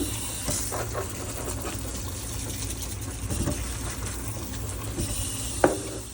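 Freshly harvested garden carrots being rinsed under running water: a steady, close rush of tap flow with splashes and a sharp clink near the end.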